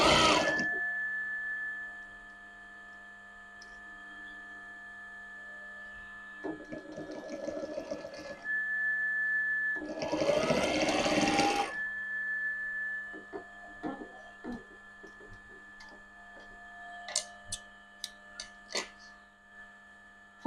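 A sewing machine stitches a zip onto a fabric cushion cover in two short whirring bursts over a steady electrical hum, followed by a few light clicks and taps.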